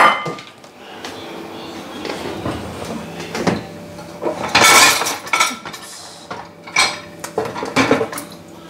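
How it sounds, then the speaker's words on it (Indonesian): Plates and glasses being unloaded from a dishwasher, with repeated clinks, clatters and scrapes of ceramic and glass close by in an irregular rhythm, no voices. "sebelum sarapan saya mau beresin ini dulu, piring sama gelas yang ada di dishwasher"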